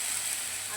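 Ginger, garlic and onion paste fries in a pan, producing a brief, soft, even hiss with no distinct stirring.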